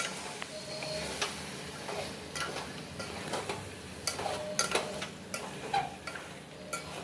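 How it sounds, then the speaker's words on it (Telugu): Chicken curry being stirred in a pan, a spoon scraping and clinking irregularly against the metal over a soft background sizzle, close and fairly quiet. "ఇది యాడ్ చేసి మధ్య మధ్యలో కలుపుకుంటూ ఉండాలి"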